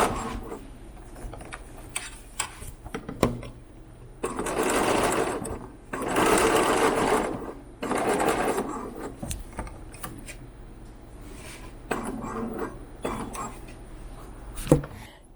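Sewing machine stitching a Japanese knot bag, running in several bursts of a few seconds each with pauses of rustling fabric and handling clicks between them, close and steady while running.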